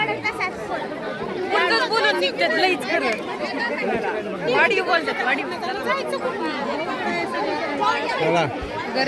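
A dense crowd chattering at a temple near a waterfall, many overlapping voices in a continuous, busy babble that holds steady throughout.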